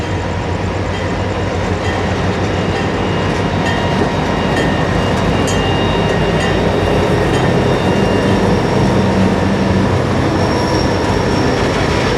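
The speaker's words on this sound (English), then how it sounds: "Here, the train is rounding the Medley Wye" An FEC freight train running as an empty rock shuttle rounds the Medley Wye, loud and continuous with rolling wheels, rumbling wagons and squealing wheels on the curve, with no voices.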